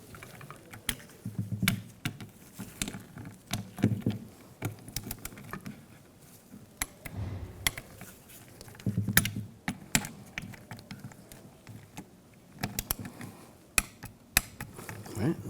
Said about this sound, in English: now we can torque these to 7 foot-pounds